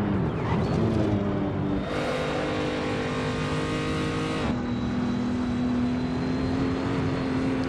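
A race car in a sim-racing game on the Nordschleife drops its engine note as the throttle eases off before a jump, then holds a steady tone; a loud, continuous engine drone with no talk.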